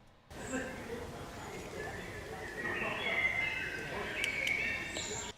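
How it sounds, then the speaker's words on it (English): Faint European bird chirps and calls scatter over a soft ambient bed, with a few sharper tweets toward the end and murmuring in the background. "that's the European birds"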